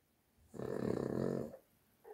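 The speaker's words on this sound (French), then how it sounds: "Si vous entendez ronfler, ne vous inquiétez pas, c'est Kenny, mon petit chien, qui dort à côté de moi." A small dog named Kenny snores while asleep close by, one long rumbling, fluttery breath about a second long, nearby and fairly soft.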